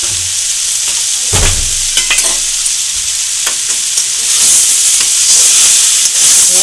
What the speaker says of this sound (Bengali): আর একটু ভাজা ভাজা করে নিই 2 মিনিট ধরে।